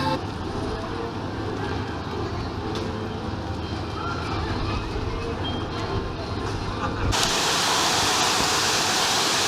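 Waterfall at the Canada Pavilion in EPCOT, heard as a steady broadband rush of falling water with a busy outdoor crowd murmur mixed in, growing louder and brighter near the end as it comes closer.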